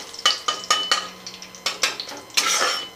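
Two dry red chillies and bay leaves are stirred in a pan over a medium gas flame, giving sharp, irregular clacks and scrapes of a utensil against metal, close and clear, without speech.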